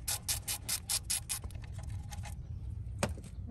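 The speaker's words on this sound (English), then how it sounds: "Might have to switch to a ratchet and spin them out a little more." A hand ratchet clicks in quick rhythmic bursts while loosening Toyota brake caliper bolts, about nine sharp ratcheting strokes followed by softer spinning clicks and a single metallic tick near the end, close and moderately loud.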